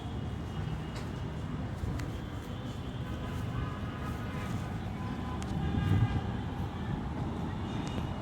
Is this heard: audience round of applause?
no